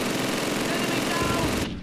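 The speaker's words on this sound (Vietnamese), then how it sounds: "Cái súng này nó bắn kiểu này làm sao mà chịu nổi hả các bạn." A machine gun in Call of Duty fires an unbroken, very rapid burst, a dense loud rattle of shots that fills the whole stretch and cuts off abruptly at the end, with a voice faintly present beneath.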